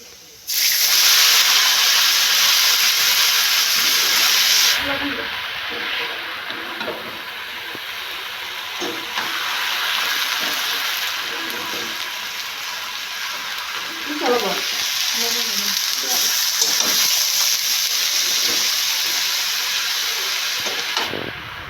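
Garlic and leafy greens frying in a pan, a loud hissing sizzle at first that drops to a softer, steady crackle, with occasional clinks and brief talk over it.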